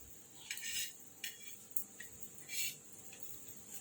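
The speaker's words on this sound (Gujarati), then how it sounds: "थोड़ुं घी एड करीशुं आपणे, पलटाईशुं" Mini chili garlic parathas are flipped in ghee on a griddle over low heat, with several light metallic clinks and scrapes of a spatula against the pan amid a faint background hiss, no speech.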